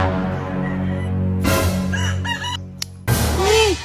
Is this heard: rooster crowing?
yes